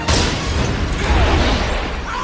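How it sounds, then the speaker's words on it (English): A loud, sudden explosion from the 2000 film The Grinch bursts out at once, then a noisy rumbling blast trails off over about two seconds. "There's an explosion in The Grinch."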